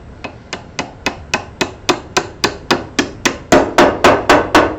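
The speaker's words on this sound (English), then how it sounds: "I'm going to tap this in with a wooden mallet" A wooden mallet taps a part into a hole in a junction box assembly: about sixteen sharp, evenly spaced knocks close by, the last few noticeably louder and fuller, with no talking.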